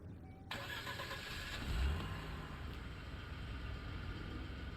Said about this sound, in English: It sounds like a little 4-cylinder, huh?